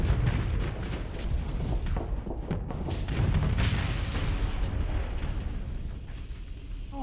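Parabolic weapons firing in the space combat game Starsector during a tournament match, a dense barrage of booming blasts and explosive bursts rolling continuously for several seconds, loud and layered.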